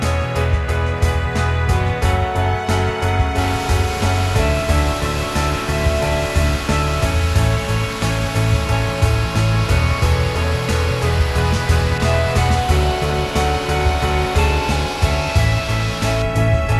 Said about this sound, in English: The sump, I've cleaned it all up, sanded it all down.